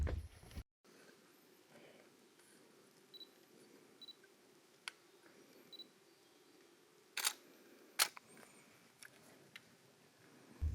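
A camera shutter clicks several times, sharp and isolated, as a hiker takes photos on a steep mountain trail; the quiet outdoor background leaves each click standing out.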